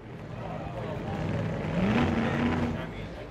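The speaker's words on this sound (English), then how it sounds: "The Orange County Rotary Club revved their engines again for the 21st annual Orange Plaza Car Show." A classic car revs its engine at an outdoor car show, a low rumble climbing to a brief, rising roar midway before settling, partly under murmured voices.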